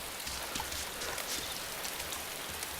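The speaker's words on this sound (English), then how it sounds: "This is about an hour later, and well, still raining." Steady, dense rain falls in the DayZ survival video game, an even, close hiss of drops that continues without pause and with no voices.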